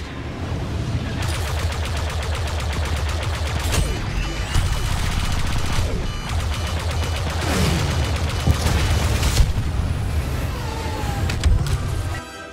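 Enemy gunfire during a Star Wars Battlefront 2 starfighter space battle: continuous rapid blaster bursts over a steady roaring engine drone, loud and sustained with sharp swooping passes throughout.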